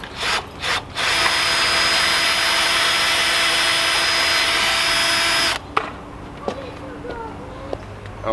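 A power drill whines steadily for several seconds at close range, drilling pilot holes in a Challenger 570 for a wickerbill install, then stops, leaving quiet clicks and handling noises.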